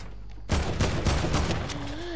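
Rapid gunfire from a PS4 game, a quick burst of shots right after a brief lull, with a whistling sweep near the end.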